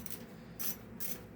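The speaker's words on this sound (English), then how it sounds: "loosening up all the bolts" A hand ratchet clicks while loosening bolts during the replacement of a one-way bearing, with two close, loud bursts of rapid pawl clicking and a steady mechanical hum between them.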